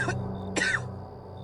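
Two short, sharp coughs a half second apart, fairly close, over a quiet low hum with no speech.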